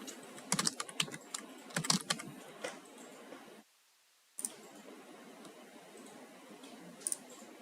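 Quick, close clicking keystrokes on a computer keyboard while a password is entered, with a brief silent pause midway before the typing resumes.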